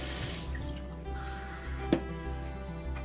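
Hot water pouring into a container while washing and lanolizing wool diaper covers: a steady close liquid stream and splash running the whole stretch, with a brief sharper clink near the middle.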